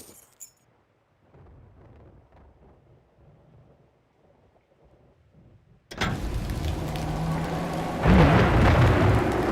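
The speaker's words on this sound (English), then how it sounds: "He's standing just on the precipice of the rain." Steady rain in Dungeon Siege swells up suddenly after a near-silent stretch, a dense wash with thunder-like rumble growing louder toward the end.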